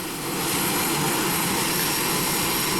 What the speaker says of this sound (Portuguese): Enfim, mais um avião passando.